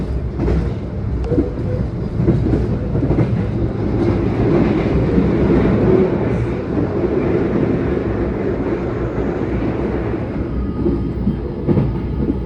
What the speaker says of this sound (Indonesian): Melihat kereta melintas di bibir pantai utara Pulau Jawa, deket banget sama laut.